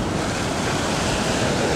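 Ocean surf breaks at a South African beach, a dense, steady wash of waves heard up close. Wind buffets the microphone throughout, and no voices are heard.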